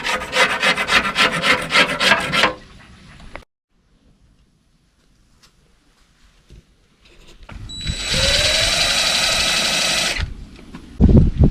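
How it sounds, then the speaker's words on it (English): Old adhesive is scraped off the deck of a bass boat: a loud, rapid rasping burst, then near silence, then a second sustained harsh scrape and a final short burst. "now that we have most of everything scraped, we've got the top scraped, the side scraped, and the inside lid scraped"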